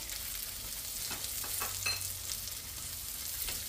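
Onions sautéing with garlic in a home pan, a steady close sizzle and frying hiss with a few stirring scrapes, continuous and fairly loud throughout with no talking.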